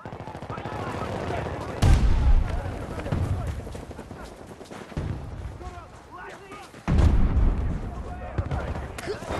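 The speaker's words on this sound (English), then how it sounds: "I'm throwing a grenade!" A grenade explodes amid gunfire in Battlefield 2042 team deathmatch on the Hourglass map, with heavy booming blasts and rattling shots in bursts, loud and close, while voices talk under the combat.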